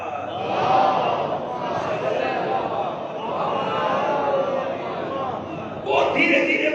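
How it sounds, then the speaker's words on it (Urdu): Congregation at a majlis loudly reciting salawat in unison, a dense continuous rumble of many voices rising and falling in waves, with a louder swell near the end. "سلامتی امام زمانہ بآواز بلندر صلوات۔"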